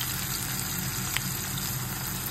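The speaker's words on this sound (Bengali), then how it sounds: "আমি বিটরুট ভাজি করতেছি" Beetroot frying in a pan with a steady, continuous sizzle at moderate level, close by, with no talking over it.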